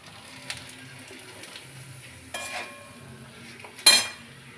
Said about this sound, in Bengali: এবার পাঁপড় ভাজা হচ্ছে